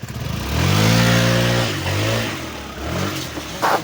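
A Yamaha Tricity three-wheeled scooter engine, just repaired after not running, revs up close by, climbing in pitch and then settling back down with a second, shorter rev at the end.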